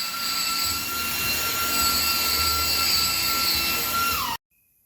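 A die grinder whining continuously at high speed while working on a turbocharged Toyota Corolla 4K engine build, loud and close, a steady shrill tone that winds down and cuts off abruptly near the end.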